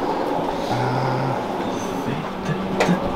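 Steady rumbling train noise fills the space, with a low hum and occasional faint squeals and clatter, as heard from inside a carriage on a long journey to Kyiv.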